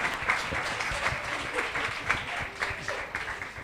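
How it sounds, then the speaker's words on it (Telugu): Audience applause at a celebration event marking a 100th episode, a steady wash of clapping from a gathered crowd lasting throughout, moderately loud with no voices over it. "So let us celebrate with claps."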